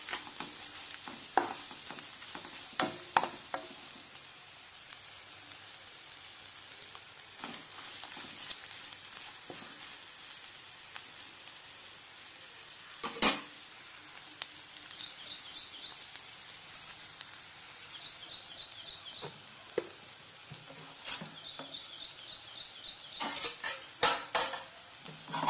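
Egg fries quietly in a pan with a faint background sizzle while rice is stirred in for egg rice, punctuated by scattered scraping and clicking strokes of a spoon against the pan.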